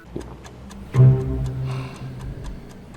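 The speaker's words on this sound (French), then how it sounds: "Le tic-tac retentit tout au long de la scène." A clock ticks in a tense chess match scene, sharp regular clicks spaced about a third of a second apart, with a low tonal hum swelling underneath partway through.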